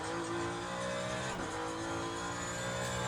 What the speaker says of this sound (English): at 190 that hybrid or that electric motor comes up to life